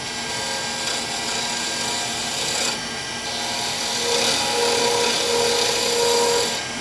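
A skew chisel cutting a spinning wooden piece on a lathe gives a steady, loud rasping scrape throughout, with a slight change in texture near the middle where the nicked edge catches.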